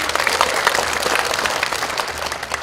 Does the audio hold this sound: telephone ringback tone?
no